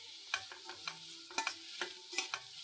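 Onions and drumstick leaves frying in a pan, with a steady soft sizzle under repeated sharp scraping strokes of a spatula stirring the mixture.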